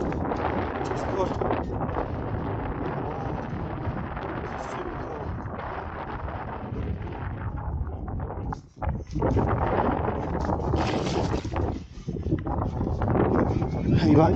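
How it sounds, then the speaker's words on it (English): Strong wind roaring across the microphone during a coastal e-bike ride, a constant heavy buffeting rush with brief gusty dropouts, steady and loud throughout. "I think the wind's coming from my right, so it's blowing me into the land"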